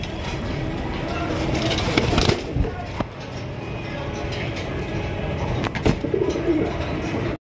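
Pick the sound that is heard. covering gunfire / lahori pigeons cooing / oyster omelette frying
lahori pigeons cooing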